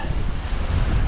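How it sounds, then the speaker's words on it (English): Wind howls across a sailboat at sea on a rough transatlantic crossing from Bermuda to the Azores, a loud, steady, broadband roar buffeting the microphone with no talking. "I don't know if you can hear the howl of the wind there, but it is pretty howly."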